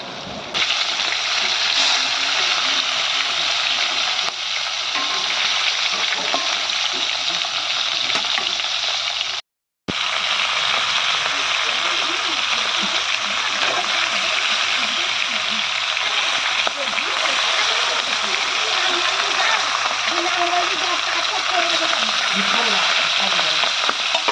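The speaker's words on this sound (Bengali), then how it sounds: "তো চলুন খয়রা মাছগুলো ভেজে নিই।" Khoira fish fry in hot oil in a pan, giving a loud, steady, continuous sizzle that cuts out briefly once before resuming.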